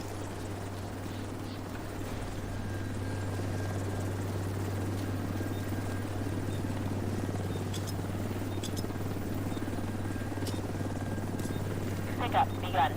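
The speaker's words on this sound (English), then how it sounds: "Helo is on site." A helicopter hovers at an extraction zone in the video game Division 2, its rotor giving a steady low drone that holds at even loudness for the whole span, with a few faint clicks near the end.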